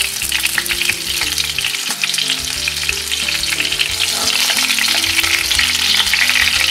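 Hake loins frying in hot oil in a pan, a steady loud crackling sizzle that runs unbroken the whole time, with a faint low hum underneath and no voices.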